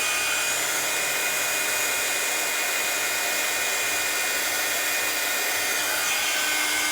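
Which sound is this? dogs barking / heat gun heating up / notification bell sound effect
heat gun heating up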